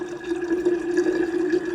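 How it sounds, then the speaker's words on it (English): Tap water runs into a pot for boiling tea, a steady pouring stream with a clear resonant tone that holds evenly for under two seconds, close by and without voices. "So I'm going to load this pot with some water"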